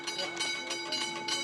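The last passenger train on the Wodonga tracks through the central district passes just before midnight, a faint, steady rumble with a sustained tonal hum.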